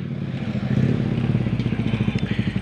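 Motorcycle engines idling and puttering at a school parking area, a steady loud low chug with rhythmic pulsing, close by, with faint clatter and no talk.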